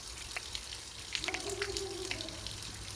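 Dirty water flowing out of an underfloor heating circuit during flushing, a continuous close gush with faint dripping and splashes on top, no talk.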